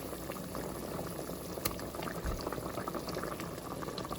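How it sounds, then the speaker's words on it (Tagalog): Two milkfish (bangus) heads frying in oil, a continuous bubbling, hissing sizzle at a steady low level with a couple of sharp pops, close by. "Yung dalawang ulo ng bangus, ipiprito natin yan."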